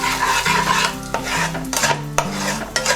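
Whole spices crackle in hot oil for egg dhokar dalna, among them dried red chillies, coriander, cumin and bay leaves, with a steady close sizzle, a spoon stirring and sharp scrapes against the pan.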